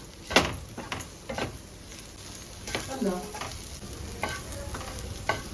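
Okra with gram flour roasts in a pan, making a soft, constant sizzle broken by repeated scraping strokes as a utensil stirs it, close by and with no talking.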